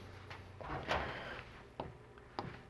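A valve keeper installer tool is tapped until it locks in place: a few soft, close knocks and clicks spaced out over quiet background, with a faint scrape in between.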